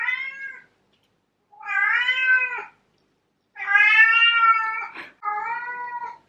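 A domestic cat meows indoors, four loud, drawn-out cries near the listener, separated by short pauses, with nothing else heard between them.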